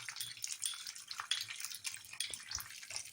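Sesame seeds crackle and sizzle in a small amount of hot ghee in a home kitchen pan, a faint, busy crackle spread across high frequencies, steady with scattered pops and no talk.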